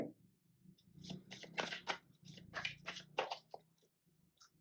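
Tarot cards being shuffled during a Hindi tarot reading, a run of crisp riffling bursts and soft card slaps, close and fairly quiet, with no talk over them.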